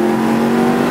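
A truck pulls hard onto a freeway, its engine revving loud and steady with a strong droning tone held through the whole second, close up and with no talk over it.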